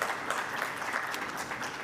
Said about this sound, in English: I would like to give a big round of applause